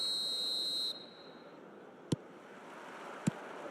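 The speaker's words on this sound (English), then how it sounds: "There's the whistle, and here we go." A referee's whistle sounds at kickoff in an eFootball match, a bright sustained tone that cuts off. Two sharp clicks follow over a low crowd-like wash.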